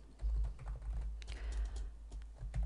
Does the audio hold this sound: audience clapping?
no